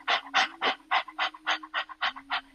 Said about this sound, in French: c'est comme si tu haletais comme un chien haletant